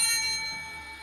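A single bell is struck once and rings out clearly, its bright tone slowly fading over about a second with nothing else heard.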